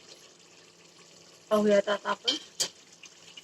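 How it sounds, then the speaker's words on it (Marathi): Hot water goes in small additions into a sizzling spice masala for a spicy Khandeshi patodi curry, giving several short, loud bursts of hissing and bubbling close by, with a voice speaking just before. "लागत लागत टाकायचं आपल्याला गरम पाणी."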